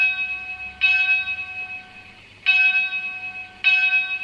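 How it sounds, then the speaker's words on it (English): Bell sound effect from a Hornby TT:120 Easterner model train: three clear ringing strikes, each sustaining and decaying before the next, spaced unevenly over a few seconds, close and fairly loud with no voices. "We've got a bell on this one."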